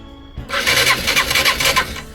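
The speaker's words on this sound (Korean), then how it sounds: "네, 셀모터가 돌죠." With its relay shorted, a motorcycle's starter motor cranks after a brief click, a loud, close whirring with a rapid pulsing rhythm that lasts under two seconds.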